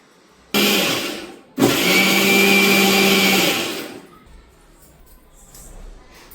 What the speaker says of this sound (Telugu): ఇది గ్రైండ్ చేసుకొని వస్తాను ఇప్పుడు